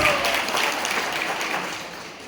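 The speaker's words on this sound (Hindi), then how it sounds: "तालियां बजाएं प्रभु श्री राम चंद्र जी के लिए और हनुमान जी के लिए" A large audience at a business team gathering claps for Lord Ram and Hanuman, a dense, even roar of applause that tapers slightly toward the end.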